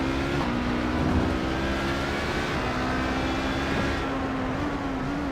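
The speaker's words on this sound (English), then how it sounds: "as we listen to the engine of Tinsey, it sounds like he's short shifting" A race car engine being short shifted at Daytona in a sportscar racing game, a continuous loud engine drone with a few brief shifts in pitch, heard alone.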